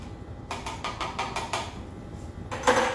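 Sugar being stirred into a root beer mixture in a cup, a quick run of clinking taps against the sides, a pause, then a final louder clink, close and without talk.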